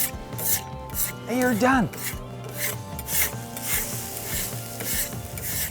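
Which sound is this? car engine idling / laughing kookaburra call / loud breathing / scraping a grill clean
scraping a grill clean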